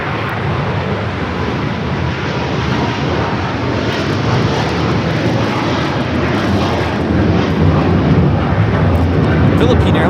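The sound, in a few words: Philippine Airlines Boeing 777-300ER taking off at LAX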